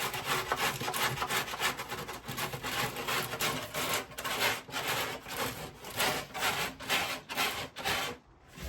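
Edges of a wooden Viking combat shield are sanded by hand with 80 grit sandpaper, steady rhythmic rasping strokes repeating close and loud throughout without any talking.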